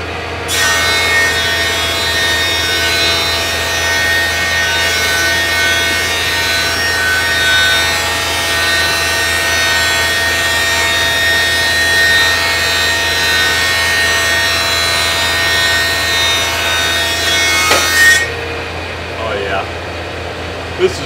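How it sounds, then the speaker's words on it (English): A rough-cut cedar trim board is smoothed with a power tool, producing a loud, steady abrasive whine and rasp that runs nearly the whole clip before cutting off near the end. "We just want to smooth off that rough exterior finish on here and get it nice and smooth"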